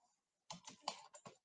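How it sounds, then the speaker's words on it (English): Soft, quick computer keyboard keystrokes come in a short burst of several taps with small pauses while a command is typed, heard alone and close up. "I type this command"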